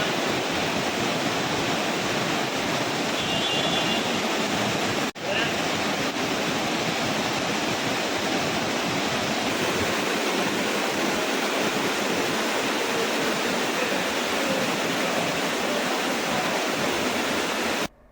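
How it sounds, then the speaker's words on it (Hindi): Floodwater from a river swollen by heavy monsoon rain in Gir Somnath rushes steadily, a dense, continuous roar that stays loud and unbroken throughout. "गिर सोमनाथ में अच्छी बारिश के चलते नदी नाले उफान पर है"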